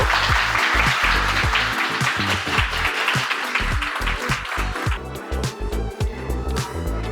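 Group at a Brazilian jiu-jitsu belt ceremony claps in a strong rhythmic unison, sharp regular claps close by, loosening slightly toward the end.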